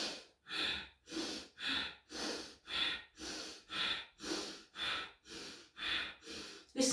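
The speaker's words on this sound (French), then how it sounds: "dizaine de fois cette respiration Bastrika" Bhastrika breathing exercise: about eleven forceful, evenly paced breaths in a steady rhythm, each a loud, close, airy rush through the nose, with no talking.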